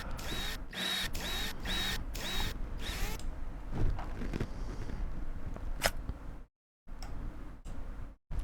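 Screws are removed in Rover Mechanic Simulator, giving a rhythmic run of ratcheting mechanical ticks and whirs, then assorted clicks and clunks with a brief silent gap near the end.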